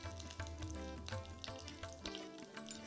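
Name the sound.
cashews and raisins roasting in pan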